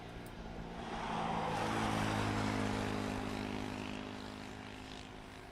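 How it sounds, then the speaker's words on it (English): An Ilyushin IL-76 at East Midlands Airport, its engine roar swelling from a distance to a broad, steady peak and then easing off, rather faint and unaccompanied by voices. "IL-76 from East Mids Airport"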